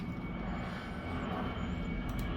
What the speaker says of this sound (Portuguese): O avião passando, mas não tem problema